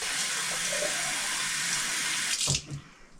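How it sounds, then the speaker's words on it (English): Water runs steadily from a tap into a small spray bottle, a loud continuous rush that stops abruptly near the end with a few small clunks. "And then I just add water to it."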